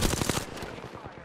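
Rapid automatic gunfire in a competitive online shooter match: loud, dense bursts that crackle hard at first and then thin out into scattered, quieter shots.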